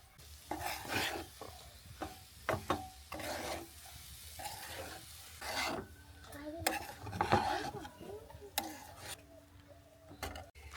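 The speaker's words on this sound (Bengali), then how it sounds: "সেমাইটা দিয়ে আস্তে আস্তে ভালো করে নেড়ে নিতে হবে।" Vermicelli (semai) being stirred slowly in a pan with raisins for laddu, giving repeated scraping and clinking of a spoon against the pan with a soft sizzle underneath, steady and close.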